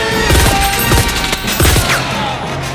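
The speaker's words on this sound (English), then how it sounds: "He came out guns blazing." Gunfire from the 1997 action movie Air Force One: loud, dense bursts of shots with heavy thumps, continuous through the scene at close range with no talk.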